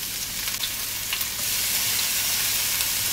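Chopped onions and pimento peppers hit hot oil in a pot with a loud, dense, steady sizzle that swells slightly as they settle, close and continuous with no voices.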